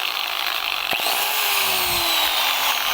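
A power grinder with worn carbon brushes runs continuously, loud and close, with a harsh, rough whine and a crackly, uneven buzz.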